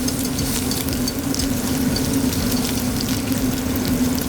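Cold liquid hits a hot roux in a pan for Cajun country fried steak and sets off a steady, loud sizzle with a low frying hum, going on without a break and with no talking.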